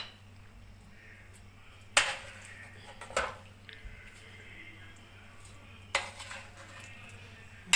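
A spoon scrapes and clinks against a pan and dish while chicken tikka masala is served out, with a few sharp metallic knocks among quieter shuffling.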